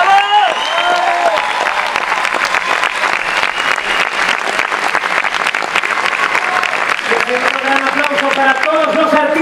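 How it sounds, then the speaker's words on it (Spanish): Loud sustained audience applause with some cheering for the dance troupe at PortAventura's 20th anniversary Celebration show in 2015, dense clapping over background music with voices mixed in throughout. "Den un fuerte aplauso para el cuerpo de baile de PortAventura"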